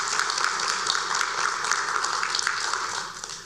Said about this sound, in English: one more round of applause for Dr. Taylor.